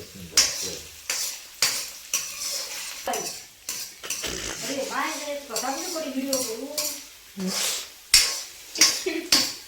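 Garlic frying in a pan while being stirred, with scraping and clinking of a utensil against the pan in irregular bursts over a sizzling background, and a voice talking intermittently.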